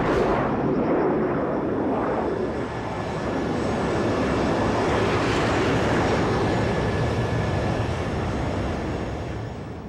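An airliner cruises in flight at high altitude, its engines giving a loud, steady broadband roar that holds evenly for the whole stretch with no voices.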